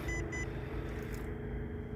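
A short series of electronic warning beeps chimes twice near the start, over a steady low rumble of a running vehicle engine.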